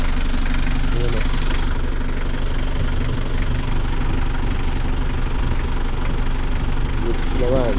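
A car engine idles steadily and loudly with a constant low rumble and slight knocking vibration throughout, while people talk nearby.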